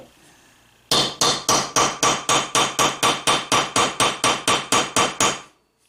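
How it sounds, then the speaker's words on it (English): A peening tool hammers rivet heads on a new sheath prototype: about sixteen loud, evenly spaced metallic strikes in quick steady rhythm, close and alone. "Now this is where that peening tool, or that rounding tool, comes into play."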